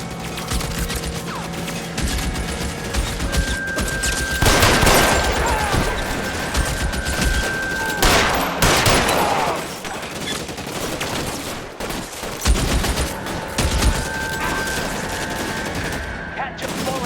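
A shootout in the LA Noire video game, sustained rapid gunfire with bursts of machine-gun rattle and scattered single shots, loud and close, while characters shout over the fighting.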